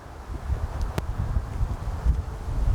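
Strong wind blows outdoors on a golf course, a steady low rumble buffeting the microphone, with one sharp tick and no talk.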